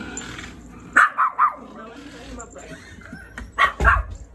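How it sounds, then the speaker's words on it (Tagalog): Several dogs bark in short sharp bursts, a quick run of three yaps then two louder barks a moment later, with quiet background sounds between. "Pagpasok natin, may mga aso."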